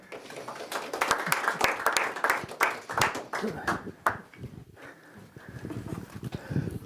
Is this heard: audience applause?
yes